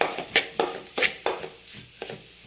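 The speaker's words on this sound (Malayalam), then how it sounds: "ആവശ്യത്തിനുള്ള ഉപ്പോടിട്ട് കൊടുക്കാം എന്നിട്ട് നല്ലതുപോലെ ഒന്ന് ഇളക്കാം" A spoon stirs ground coconut paste and salt in a pan for banana flower thoran, making about six sharp, close scraping strokes in quick succession over a faint sizzle.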